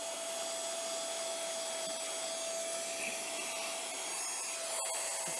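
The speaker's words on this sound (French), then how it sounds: "tu essayes de souffler pour t'en dépoussiérer en même temps que ça aspire" A vacuum cleaner runs continuously, sucking dust out of the bobbin area of a sewing machine with a steady, close whine and airy rush, while a thin tonal hum holds throughout.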